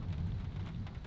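Steady rain falls in Ireland with a dense, continuous patter and a low rumble beneath, moderately loud and without voices.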